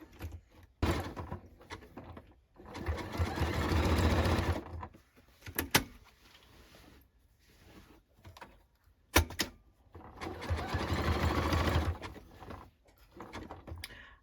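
A sewing machine stitches along the back seams of a denim jacket in two long, fast whirring runs, each ending in clicks and mechanical clunks, with quiet pauses between them.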